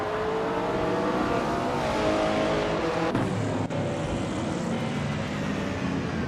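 Nissan Skyline 2000 GTR race car in a racing video game, its engine droning steadily and loud throughout with shifting pitch as it pushes hard through the race, no voices over it.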